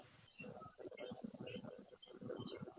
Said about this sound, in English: I hear the crickets too